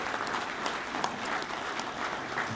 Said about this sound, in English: So a round of applause because of volunteers like you guys.